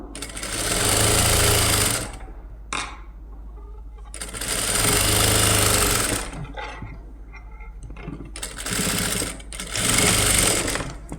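Sewing machine stitching a blouse joint, fast dense whirring bursts of two or so seconds each, separated by short pauses and small clicks, loud and close with no talk.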